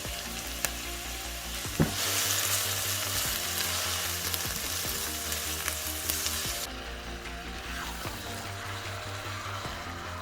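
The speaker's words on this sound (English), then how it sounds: "So now I'll add my onion and celery." Onion and celery sizzling in about two tablespoons of hot oil over medium heat as the base for a Guyanese, Trini-style chicken curry; a steady close frying hiss with brief stirring clatters, no talking.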